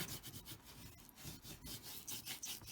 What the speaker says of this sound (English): we're going to rub it in the back